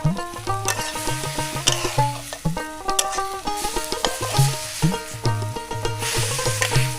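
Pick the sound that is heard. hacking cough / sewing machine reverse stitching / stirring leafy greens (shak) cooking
stirring leafy greens (shak) cooking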